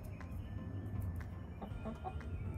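Chickens cluck softly and irregularly while pecking at a black soldier fly larvae block, a few quiet clucks and taps over a low background hum, with no talk.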